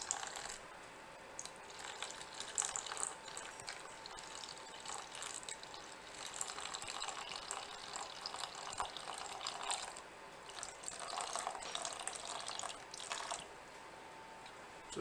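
Hot water, boiled and cooled to about 90 degrees, poured from a kettle into a bowl of flour for pizza dough, a steady close splashing trickle running throughout with small drips and clinks.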